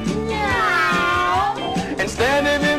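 A cat meows in a long, drawn-out tone, followed by a shorter second meow, close and clear.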